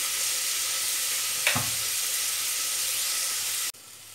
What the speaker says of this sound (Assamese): এয়া মূলাখিনি খুব ধুনীয়াকৈ ফ্ৰাই হৈ গ'ল। মই হাই ফ্লেমত 2-3 মিনিটমান ফ্ৰাই কৰি ল'লো।